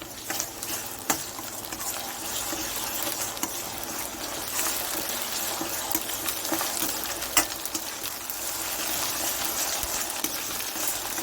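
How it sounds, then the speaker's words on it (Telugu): Onions fry in a pan with ginger garlic paste for an Andhra country chicken curry, producing a continuous close sizzle with occasional stirring scrapes and clicks, without any voices. "ఇప్పుడు అల్లం వెల్లుల్లి పేస్ట్ వేసుకుందాం"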